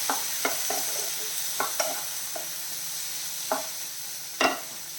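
Tomatoes sautéing in a pan for a homemade chutney, with a steady soft sizzle broken by several sharp scrapes and taps of a spoon stirring at irregular intervals, close and fairly quiet.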